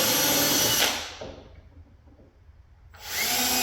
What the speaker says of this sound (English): Now we're just drilling some pilot holes